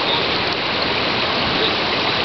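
Floodwater from the 2010 storms rushes past businesses in a loud, steady roar, with no let-up and no voices.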